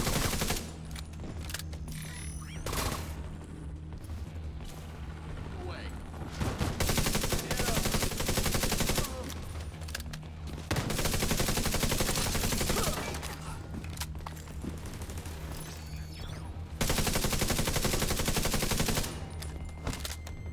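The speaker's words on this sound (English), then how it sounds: "I'm shooting him in the head." Gunfire in The Division 2 while shooting at an enemy: sustained automatic bursts, loud and close, coming in several long volleys separated by brief quieter gaps with faint background sounds.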